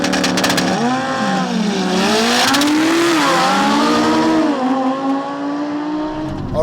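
An Audi A3 launching in a drag race, engine revving hard and loud with rising and falling tones as it struggles off the line, close and continuous, briefly mixed with tire noise at the start.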